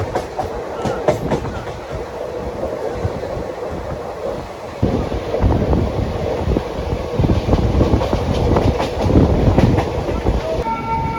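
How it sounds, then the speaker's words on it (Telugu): Krishna Express passenger train running on rails on the Adilabad to Tirupati route, with a goods train running parallel, giving a loud, steady rumble and clatter of wheels throughout, with a brief brighter burst near the end. "అదిగోండి ఏదో గూడ్స్తో మన ట్రైన్కి ప్యారలల్ రన్"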